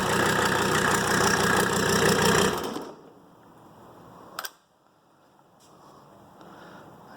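A rebuilt Mercedes OM617 diesel engine runs loud and steady for under three seconds, then cuts off abruptly, leaving faint background noise with a couple of brief clicks.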